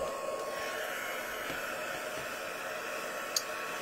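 A heat gun blows a constant, airy hiss while drying embossing powder on a craft project, close and steady throughout with one brief click near the end.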